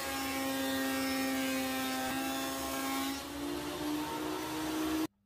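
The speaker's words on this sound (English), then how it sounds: "So I'll get these through the thicknesser now and then I'll get back to you." A thicknesser planes boards of reclaimed timber for a table top, giving a loud, steady motor whine with a strong humming tone that shifts pitch slightly as the wood feeds through, then stops abruptly.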